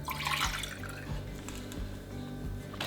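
Water is poured into a jar of coffee kombucha ferment, with a short splashing rush at the start that settles into a quieter trickle over a low steady hum.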